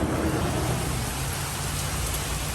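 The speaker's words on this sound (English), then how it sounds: "the rain kind of stopped my plans for today, for my decorating and outside adventures" Steady rain falls outside on a spring morning, a dense, even hiss with a low rumble underneath, close and unbroken with no voices.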